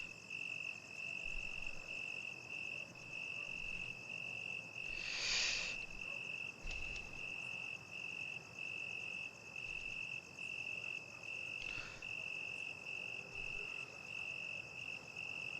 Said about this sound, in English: Could be crickets. It's more likely to be crickets.